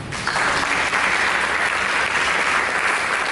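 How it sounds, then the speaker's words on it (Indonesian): Sustained applause from a church congregation, steady and loud throughout, with no talking over it. "Berikan tepuk tangan bagi Yesus Kristus."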